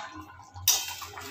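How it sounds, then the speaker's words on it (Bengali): A lid lifted off a cooking pot of half-boiled potatoes simmering in curry for raw banana kofta, a sudden close metallic clank and scrape rising out of a quiet kitchen hum, followed by a soft rattle. "ঢাকাটা আমি সরিয়ে নিলাম"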